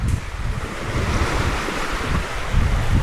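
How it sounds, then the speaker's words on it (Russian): Small waves wash steadily onto a sandy beach while strong wind buffets the microphone, forming a continuous loud roar of surf and gusts with no voices. "Волны маленькие, это смотрится очень красиво."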